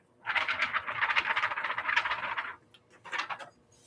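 A sheet of thick 32-pound paper is shaken close by in two bursts, a long rattling flutter and then a shorter one, somewhat fuller in tone, with no talking.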